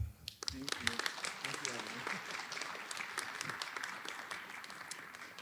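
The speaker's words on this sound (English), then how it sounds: "let's please give another round of applause for both Grace and Evan." Audience applause at the 2022 Freedom Summer of '64 Award ceremony at Miami University: dense, steady clapping from a large crowd fills the whole stretch at an even level without letting up.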